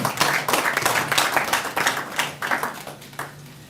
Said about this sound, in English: let's give him an applause again